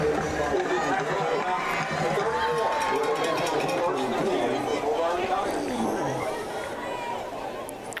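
Crowd noise at a high school football game, a steady roar of spectator chatter and cheering that carries throughout and eases slightly near the end, mixed with voices talking close by.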